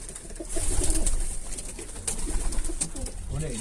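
Soft, low pigeon cooing repeats in murmuring bursts close by, with a faint hiss of background noise.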